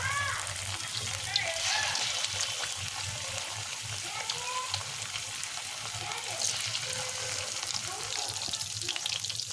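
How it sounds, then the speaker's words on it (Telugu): Chicken pakodi pieces frying in hot oil in a kadai, making a continuous dense sizzle and bubbling that stays loud and close throughout, with a faint voice underneath. "ఇక చికెన్ ముక్కల్ని అందులో వేసుకొని ఫ్రై చేసుకుందాం"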